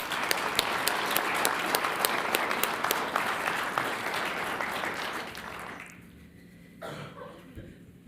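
A council meeting audience claps for city staff, a full round of applause that holds steady for several seconds, then cuts off with quiet room noise after.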